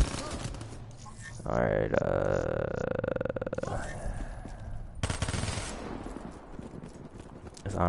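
Rapid, fast-firing bursts from a gun in an online shooter video game rattle out over roughly two seconds, with quieter shots afterward, mixed with game ambience and someone talking.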